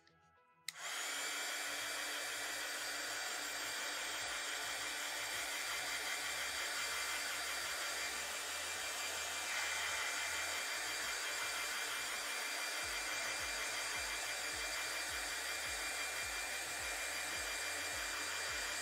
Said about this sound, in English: Okay, let's dry this.